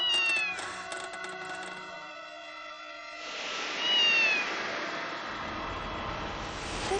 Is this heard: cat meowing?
yes